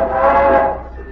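A train whistle wails in a radio drama, one drawn-out mournful cry that swells and then fades over a rumbling background, loud and close.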